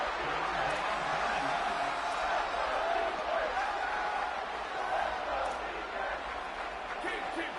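A stadium crowd in an NCAA college football video game keeps up a steady, loud roar of cheering for the defense on third down, with a commentator talking over it throughout.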